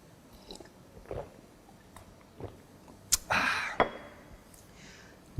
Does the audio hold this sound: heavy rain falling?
no